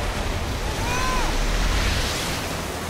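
Steady rushing water in Minecraft Story Mode, loud and continuous like surf or a torrent, with a faint whistling tone over it and no talk.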